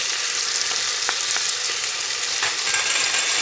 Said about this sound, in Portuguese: E vou deixar refogar até dourar